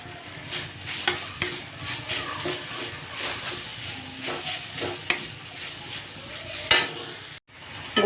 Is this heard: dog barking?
no